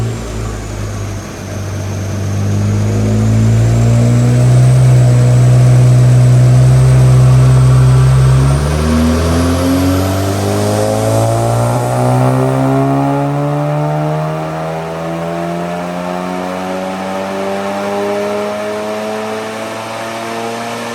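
Turbocharged manual car with port and direct injection running E85, about 450 wheel horsepower, revving hard through a dyno pull; a loud sustained engine roar climbs steadily in pitch, then holds high and eases off near the end, with no talking.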